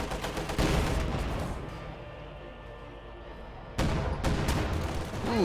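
Heavy B4 howitzer shots in the Company of Heroes strategy game, with a loud broadband boom near the start and another sharp blast later, each trailing into rumbling battlefield noise. No one speaks.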